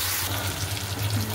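Potatoes and poppy seeds fry in a wok with salt and turmeric, giving a brief, close, continuous sizzle with a faint watery crackle.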